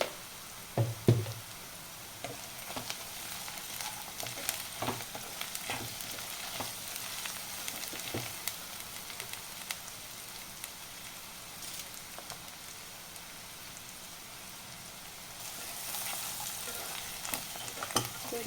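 Bitter gourd and onion fry in a pan with a steady close crackling sizzle, broken by scattered knocks and scrapes of stirring, with no voices.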